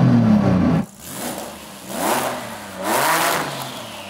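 A modified SUV engine revs hard in bursts, with a loud opening roar that cuts off, then two more swelling revs, all close by and without talk.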